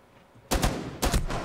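Gunfire in the tactical shooter Rainbow Six Siege: two sharp bursts of rapid shots, close and loud, separated by a brief pause.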